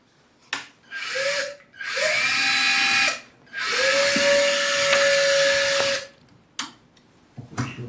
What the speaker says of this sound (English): we will use our self-holding screwdriver to screw it into the